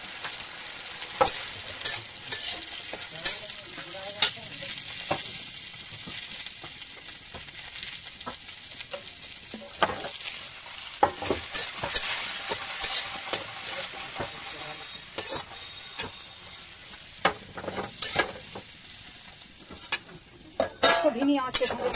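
Sponge gourd flowers dry-roasting in a wok with no oil, a steady close sizzle broken by frequent spatula scrapes and metallic clinks against the pan, continuing throughout.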